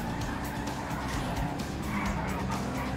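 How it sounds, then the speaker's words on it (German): Car drifting in GTA 5 video game: a steady engine roar with grinding tire skid running throughout, loud and close, with brief voices under it. "Oh, schöner Drift."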